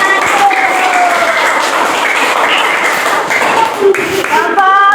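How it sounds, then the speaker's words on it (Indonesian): A classroom of elementary school pupils at SDN Pasir Awi in Cigudeg applauds a student group, with steady, close clapping over the full stretch and children's voices mixed in. "tepuk tangan buat kelompok"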